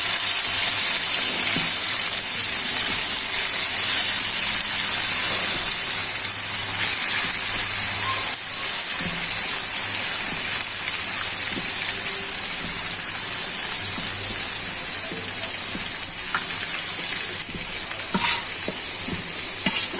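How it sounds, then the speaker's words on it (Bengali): Small mola fish frying in hot oil in a pan for a traditional Bengali chorchori, giving a loud, steady, dense sizzle with faint stirring clatter throughout, no talking. "তেলটা গরম হয়ে গেছে, এখন মাছগুলো দিয়ে দিচ্ছি।"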